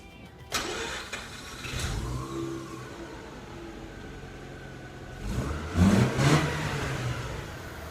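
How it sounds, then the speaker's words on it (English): A 2004 Mazda RX-8 rotary engine cranks and fires, settles into a mid-pitched idle, then gives a short rev burst, close and clear with no talking. "So let's start her up. Let's take a look at that rotary engine."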